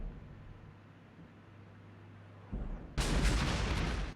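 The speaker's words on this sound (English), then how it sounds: "Opening it up with autocannon." Autocannon fire in the tank game Armored Brigade: a quiet low rumble gives way to a short burst and then a loud, dense roar of rapid shots near the end.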